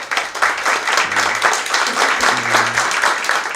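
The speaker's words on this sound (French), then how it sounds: "Je pense qu'elle mérite un applaudissement au président et à tous les membres du conseil." Applause for a president and council members at an art museum press conference, a dense crowd clapping steadily for a few seconds, with faint low murmurs underneath.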